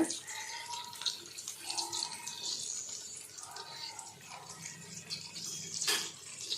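Water runs and splashes steadily into a pan of mint-coriander chutney for several seconds, fairly quiet, with a brief louder splash near the end.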